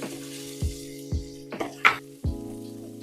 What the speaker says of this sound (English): Add the shrimp.